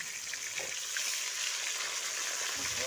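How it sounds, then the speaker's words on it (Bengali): Sardine fish fry in hot oil with a steady, bright, hissing sizzle that runs throughout, close and fairly loud, with a few soft pops and crackles. "এইভাবে উল্টে পাল্টে কিন্তু লাল লাল করে ভেজে নেব।"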